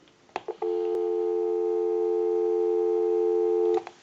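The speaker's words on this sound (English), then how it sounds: "So we'll go ahead and give you some dial tone" Steady continuous telephone line tone from the handset of a brass rotary telephone, loud and close, holding for about three seconds after a few brief clicks and switching noises, with no talking.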